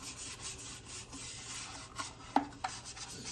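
Clear wax is rubbed by hand over a thrifted wine carrier covered in decoupage paper, making a soft, steady scrubbing, close but quiet, with a couple of small knocks near the end.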